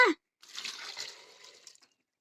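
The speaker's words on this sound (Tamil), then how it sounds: "இந்த மாதிரி ஒரு பாத்திரத்தில் சேர்த்து 1/2 லிட்டர் தண்ணி சேர்த்துக்குங்க" About half a litre of water is poured into a cooking pot, a brief splash followed by a steady pouring trickle lasting under two seconds, close and moderately loud.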